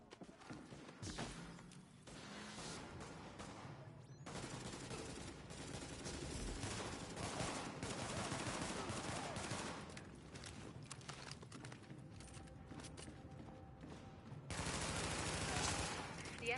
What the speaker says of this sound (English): The escort party's taking heavy fire from the roof.